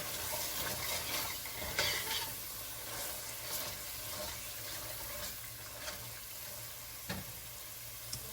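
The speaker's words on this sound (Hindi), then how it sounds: "अभी मैं पानी डाल दूंगी" Water pours into a pan of onion, garlic and ginger masala frying in oil, giving a steady, close hiss and sizzle with small splashes and no talk.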